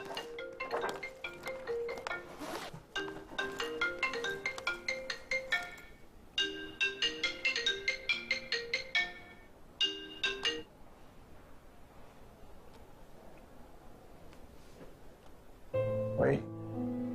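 A mobile phone ringtone plays a repeating electronic melody, steady and fairly loud, during a medical check-up on a leg injury in a TV drama; it stops, followed by quieter background sounds and a brief final tone.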